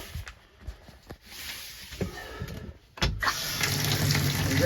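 Water running from an RV shower faucet in a travel trailer being winterized, starting with sputtering spurts and knocks, then settling into a steady loud gushing flow.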